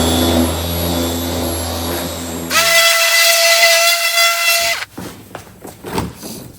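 A power polisher buffs the paint of a John Deere L110 lawn tractor with a loud, steady high whine. It cuts off abruptly near the end, leaving scattered handling clatter.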